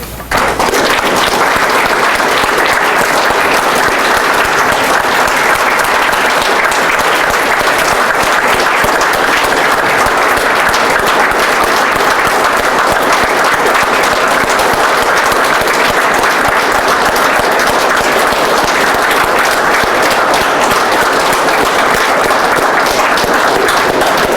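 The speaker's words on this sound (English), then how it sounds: "So please join me in giving Lee and Eric a round of applause" A sustained round of audience applause at a Boy Scout troop retirement ceremony, loud and steady clapping from a full room that holds evenly for over twenty seconds.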